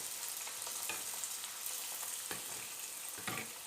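Food frying in hot oil for Moroccan crispy msemen, a steady close crackling sizzle throughout with a few louder popping bursts.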